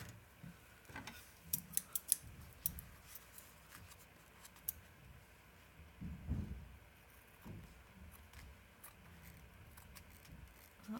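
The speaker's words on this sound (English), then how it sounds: "We'll see if we can trim some of this stuff off from here. And the scissors" Scattered snipping and crisp clicks of scissors cutting paper, irregular and fairly quiet, with soft rustling and background handling noise.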